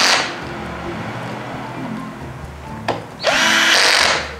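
Electric drill tightening screws while mounting a replacement Cosmos fan motor, with a steady whirring run through most of the clip, a brief stop and a short burst before it revs up again loud and close.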